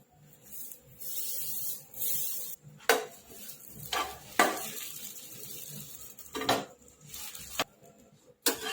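Pav buns toast in butter in a pan for bottle gourd pav bhaji, with scraping, rubbing turns and sharp knocks of a spatula as the buns are flipped, set over a faint steady sizzle.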